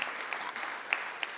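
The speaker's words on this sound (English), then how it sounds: "Now I want the applause." An audience applauding at a talk on Chicago students' college success, steady faint clapping from a crowd heard from some distance, with a few sharper claps standing out.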